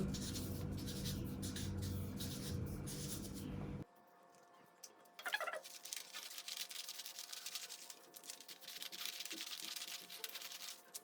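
Marker writing numbers onto cut fabric pieces for an off-shoulder bishop-sleeve garment, a soft scratchy scribbling that carries on steadily in short strokes, close up, with no talking.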